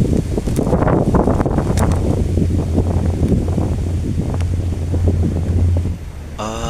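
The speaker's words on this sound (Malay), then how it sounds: "Seperti sahabat dengar angin begitu kuat" Strong wind buffets the microphone outdoors after days of rain, gusting in rough, uneven bursts with rustling and flapping throughout, ending in a brief sharper noise.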